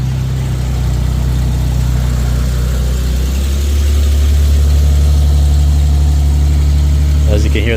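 An Infiniti QX70 idling after a remote start, a steady, loud low rumble that settles into an even hum and runs continuously, with a brief faint click near the end.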